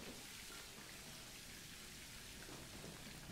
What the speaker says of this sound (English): Is that just rain?